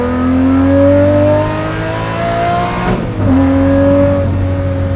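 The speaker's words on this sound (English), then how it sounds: "thank you for making naturally aspirated V12s Lamborghini" A straight-piped Lamborghini Murcielago with a naturally aspirated V12 screams loudly as it accelerates, its pitch rising steadily, then cuts off briefly for a shift near the middle before climbing again, heard close up from inside the car.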